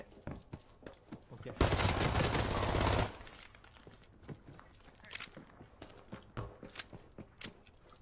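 Automatic gunfire in the shooter game Arena Breakout, a loud dense burst lasting about a second and a half, followed by scattered fainter clicks and footsteps-like taps.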